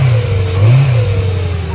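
BMW M3 engine fitted with an aFe carbon fiber intake revs up briefly, a loud, close drone that rises and falls once with a thin intake whine riding above it.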